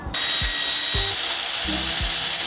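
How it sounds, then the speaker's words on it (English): A brake caliper is pulled off a car's wheel during a brake inspection in a Brisbane workshop. Four dull, low metallic clunks land at roughly even intervals over a steady background hiss. "Let's pull this caliper off."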